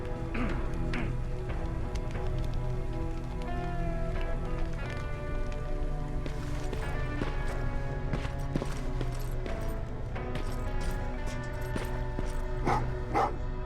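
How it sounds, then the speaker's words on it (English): Dogs bark repeatedly in a Terminator Resistance game scene, sharp yelps scattered over a steady background of rain-like noise and music. "Well, what's with the dogs?"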